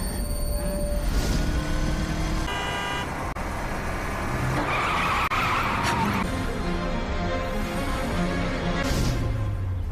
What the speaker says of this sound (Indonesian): melihat atraksi motor yang sedang berlangsung